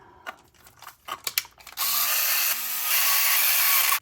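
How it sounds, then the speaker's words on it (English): Small M3 screws being driven with a powered driver into a 3D printed plastic puzzle box lock: a few short clicking turns, then a steady loud whirring drive that runs continuously with a slight step in pitch partway through. "You're going to screw the lock part to the actual head ring itself,"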